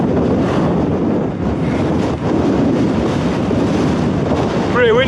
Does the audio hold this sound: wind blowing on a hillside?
yes